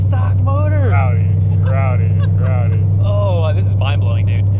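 A stock Coyote engine in a Ford Mustang drones steadily and loudly from inside the car during a street ridealong, its deep constant roar running beneath excited talk throughout.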